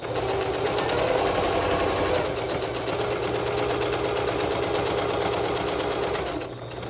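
A sewing machine back stitching the edge of fleece fabric for a child's fitted mask runs as one steady, rapid, continuous whir before slowing to a stop.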